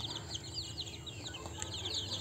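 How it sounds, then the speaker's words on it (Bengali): Native desi chickens on a home farm clucking softly and continuously at a moderate distance, with a few faint, scattered calls over a steady low background. "এটা হচ্ছে পিওর দেশি মুরগি,"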